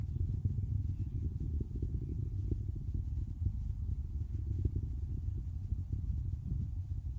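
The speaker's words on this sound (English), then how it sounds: "Always wonderful to hear a rumble of those Merlin engines as another Falcon 9 lifts off into space" SpaceX Falcon 9 rocket's Merlin engines at a Starlink launch liftoff, a continuous deep, distant crackling rumble that holds steady throughout with no talk.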